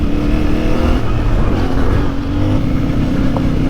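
Onboard sound from a CFMoto 450MT motorcycle while riding: a steady, loud engine drone mixed with rushing wind noise, continuous throughout, with no speech.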